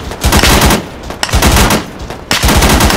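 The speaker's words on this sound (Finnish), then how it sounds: "Meitä ammutaan jostain." Gunfire in the Arma 3 video game: loud, close rapid bursts of automatic fire in dense clusters, broken by brief pauses, with no talk over it.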